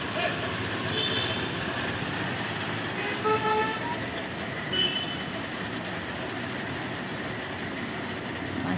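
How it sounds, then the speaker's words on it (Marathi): Road traffic below a residential flat, with a continuous roar of passing vehicles and several horn toots cutting through, steady and fairly close. "रोडावरती गाडी येतात जातात"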